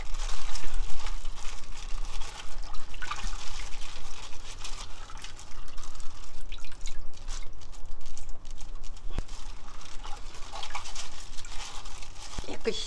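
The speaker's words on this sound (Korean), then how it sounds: "아, 고등어 씻어? 손질한 거?" Mackerel is rinsed under a running kitchen tap, a steady close rush of water with splashing shifts throughout, while people talk over it.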